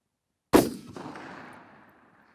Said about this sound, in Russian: Внимание, выстрел.